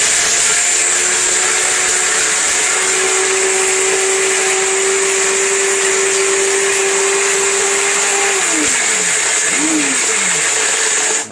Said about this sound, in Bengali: এমন এক পাগলা ব্লেন্ডার এটা